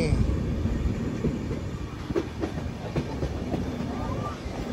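Mumbai LTT to Kakinada Port Express running through curves near Badlapur in the Western Ghats, heard from inside as a continuous rumble with wheel clatter and occasional clicks, fairly loud and steady.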